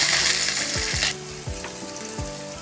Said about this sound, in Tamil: அதோட நம்ம கட் பண்ணி வச்சு பெரிய வெங்காயம் சேர்த்துக்கலாம்